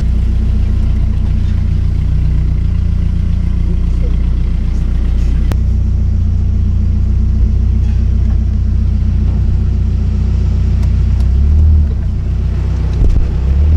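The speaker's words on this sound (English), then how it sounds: "Beautiful KA24DE, the mini big block. Listen to her purr." A Nissan KA24DE four-cylinder swapped into a Datsun 720 minitruck idles steadily close by, with a loud, even low rumble and a brief rev near the end.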